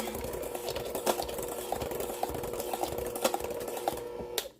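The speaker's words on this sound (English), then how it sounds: "this hand mixer is hell on my hands" An electric hand mixer beats pound cake batter with eggs and cream cheese in a steady, continuous whir with slight rhythmic rattling. It runs close and moderately loud for several seconds, then cuts off abruptly.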